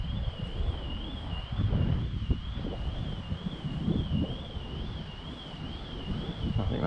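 Gusty outdoor wind buffeting the microphone, rising and falling in low rumbling surges, with a steady high whine running through it from a small twin-engine toy biplane nearby.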